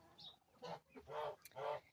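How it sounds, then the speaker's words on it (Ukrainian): Domestic hens near ducks in a farmyard, clucking close by in short bursts of a few calls with brief pauses between. "Оті мої курочки, ті мої курочки там коло качок"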